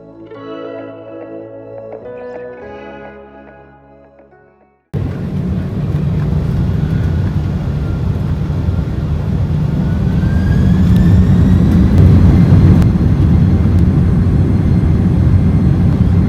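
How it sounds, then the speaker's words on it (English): A TUI UK Boeing 767-300 jet taxiing to the runway, heard from inside the cabin as a steady loud engine roar and rumble with rising whine tones, following a few seconds of quieter cabin ambience. "we began our taxi to runway 27."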